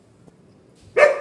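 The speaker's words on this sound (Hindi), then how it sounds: "देखिए यही मेरा कुत्ता है" A single sharp dog bark bursts out close by after near silence, short and loud, belonging to a household dog at an income tax inspector's home in Pahleja.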